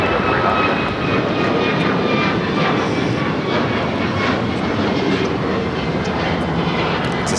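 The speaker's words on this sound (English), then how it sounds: "It's a 737 at max 9, 5 years of age with Alaska Airlines flight 1352." An Alaska Airlines Boeing 737 MAX 9 takes off at LAX, its engine roar loud, broad and steady across the whole stretch with no voices over it.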